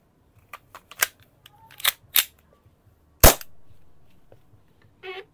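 An SRC Babayaga Beta airsoft gun fires, giving sharp, snappy cracks: several faint clicks and pops, then one loud shot with a short decaying tail, followed by a brief buzzing burst at the end.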